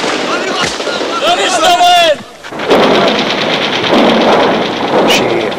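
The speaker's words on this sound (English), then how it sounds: "you hear the shells? She said, yes, I hear them" Artillery shells during the siege of Beirut: rising whistles give way to heavy, rumbling explosions and a sustained loud roar of bombardment.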